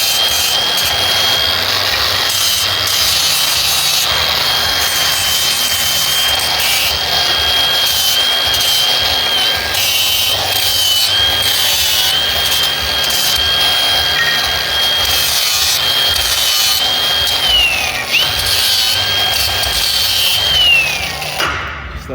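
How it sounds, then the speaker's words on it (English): Spots on metal being sanded down ahead of welding on a Toyota FJ40 build. A loud, steady abrasive power-tool whine runs continuously without a break. "And then I'll sand these spots down so it doesn't mess up his weld."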